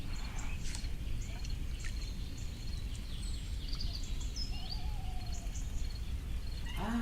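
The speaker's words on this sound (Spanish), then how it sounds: "Ahí se escuchan los mirlos." Several blackbirds sing at dawn at a wetland with a heron and grebes nearby, their scattered high whistles and trills coming from a distance over a steady low rumble of background noise.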